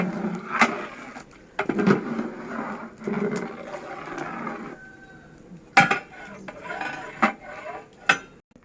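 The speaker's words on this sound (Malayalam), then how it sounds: "നമ്മളിതാ വെജിറ്റബിൾ മസാല ഇടുന്നുണ്ട്. ഇട്ടിട്ടുണ്ട്. നന്നായിട്ട് ഇളക്കി കൊടുക്കുന്നുണ്ട് കേട്ടോ." Vegetable masala for veg biryani stirred in a pot: close metallic scrapes and clanks of a spoon against the pot, irregular knocks and a few sharp taps, with faint rustling between.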